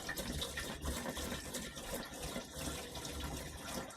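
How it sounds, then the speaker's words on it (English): Cleaning liquid, about a gallon or two, poured into an RV holding tank, a steady gurgling gush of liquid running close and continuous without pause. "I guess I can just pour it like this. So that's about a gallon or two. Let that go in."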